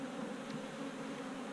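Honey bees droning steadily in a new beehive, a close, dense and continuous buzz with no voices.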